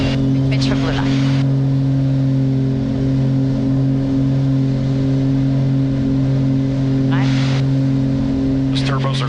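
Simulated turbocharged aircraft engines on a takeoff roll, a loud steady droning hum throughout with a few brief clicks, while people talk over it.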